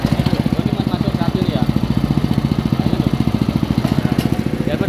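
A Honda-powered mini tractor with gearbox and V-belt drive runs close by, its small engine thumping in a loud, rapid, steady beat with no pauses.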